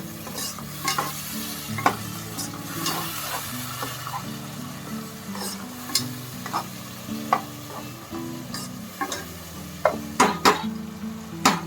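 Coriander is stirred into paneer biryani in a pot, a soft sizzle under irregular scrapes and clinks of a spoon against metal, close by with no voices.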